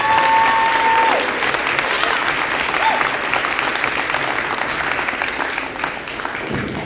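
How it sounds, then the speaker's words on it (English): A crowd at the SoCal FTC Regional Championships applauds the coaches and mentors, with sustained, loud, even clapping filling the room for several seconds. "So how about a big round of applause for all these people?"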